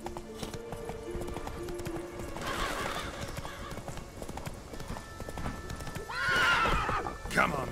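In The Witcher 3, the horse Roach trots with steady clip-clop hoofbeats, whinnies loudly near the end, and someone speaks over the sounds.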